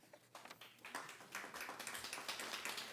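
Audience clapping in a school board meeting room, scattered claps that build into steady, moderately loud applause from a modest crowd over a few seconds, with no talk.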